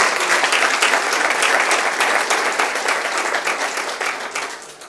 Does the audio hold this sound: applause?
yes